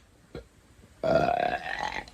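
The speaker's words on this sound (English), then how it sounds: "Ooh, spicy burp." A short faint sound, then a loud, drawn-out croaking burp from a man who has just eaten homemade bean and mushroom soup, rough and throaty, trailing off after about a second.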